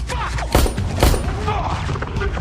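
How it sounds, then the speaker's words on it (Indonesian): Rapid gunfire from a detective shooting a fleeing henchman in an action film, loud bursts and booming impacts layered over a dense, busy soundtrack. "salah satu anak buah Goram yang ingin kabur berhasil ditembak oleh Detektif Moore"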